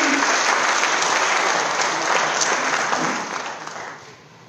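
Loud, sustained applause from a large crowd at a BlackBerry phone launch event, dense clapping that holds steady before fading out toward the end.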